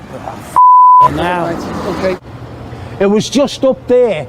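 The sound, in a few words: mobile phone beep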